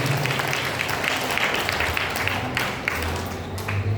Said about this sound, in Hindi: जोर से ताली बजाएं और धन्यवाद दें।